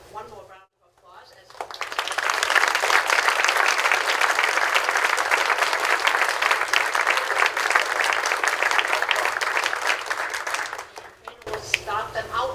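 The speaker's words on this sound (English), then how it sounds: "Audience, please give them one more round of applause." An audience at a National Technical Honor Society induction ceremony gives a sustained round of dense applause lasting roughly nine seconds before fading away.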